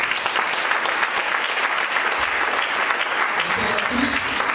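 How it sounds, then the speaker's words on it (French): Applause and acclamations from a church congregation welcoming the apostle Jean, a steady dense wash of clapping with voices mixed in, sustained and fairly loud throughout. "je voudrais que nous recevons l'apôtre Jean par des acclamations"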